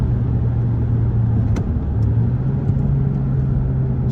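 A daily-driver car at a bracket race revs hard and lurches forward from a standstill as the clutch is dropped, with a loud steady rumble and a brief jolt partway through.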